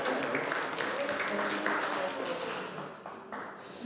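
A church youth group at a winter retreat applauds softly and evenly for a few seconds, a faint spread of clapping with some voices in the room.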